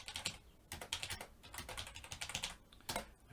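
Someone types a code comment on a computer keyboard, producing quiet bursts of quick, clicky keystrokes with short pauses between them, close and alone.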